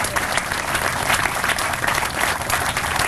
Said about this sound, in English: I would like to have a special round of applause for Don Barry for his leadership